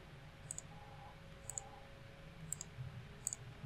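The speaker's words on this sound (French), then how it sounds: "Je clique là aussi." A computer mouse gives a few soft, sharp clicks, single and in quick pairs, spaced about a second apart over a faint quiet background, with no speech.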